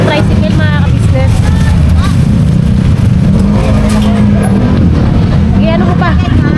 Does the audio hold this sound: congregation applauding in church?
no